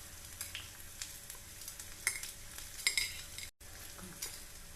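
Urad dal frying with garlic in coconut oil crackles softly in a pan, a quiet sizzle broken by a few sharp pops and stirring scrapes, close but faint, with no talk.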